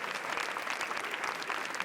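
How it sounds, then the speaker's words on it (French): Steady, dense applause from a packed cinema audience at the Cannes Film Festival, cheering the film team and director Hirokazu Koreeda; loud, continuous clapping with no gaps. "toute la salle applaudit l'équipe du film et ce réalisateur tant aimé sur la croisette"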